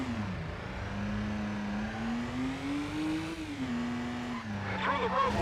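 Car handbrake turn in the stunt-driving video game Stuntman: a loud steady engine whine bending in pitch as the car slides, with skidding tire noise and a rougher burst of screech and revving at the end.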